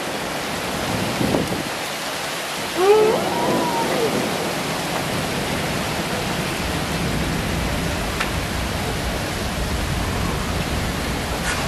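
Heavy rain falls in Silivri, Turkey, as a loud, even wash of broadband noise that runs the whole length, with a brief murmured voice near the start.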